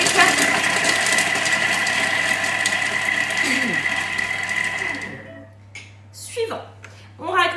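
A Thermomix chops shallot at speed 5 with a steady whirring motor hum for about five seconds, then stops abruptly, followed by faint kitchen clatter and a few brief vocal sounds.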